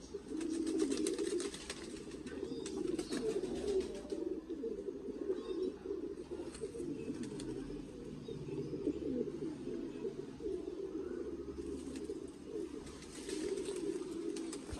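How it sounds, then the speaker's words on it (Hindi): Pigeons coo continuously in soft, low, rolling calls, several birds overlapping, with faint chirps and rustling around them. "अच्छा कबूतर है ये भी"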